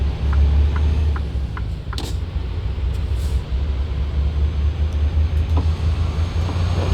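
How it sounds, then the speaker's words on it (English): Truck engine in American Truck Simulator, heard from the cab with the windows down: a steady, loud low rumble that drones on without a break, with a few faint clicks and a brief whoosh over the top. "Down the windows here, let you guys listen to the truck again."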